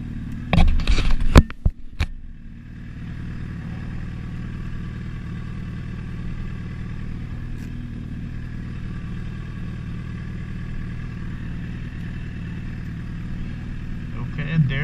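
A motorcycle shifts into first gear with a clunk and brief rattle at the start, then its engine settles into a steady low idle that carries on alone to the end.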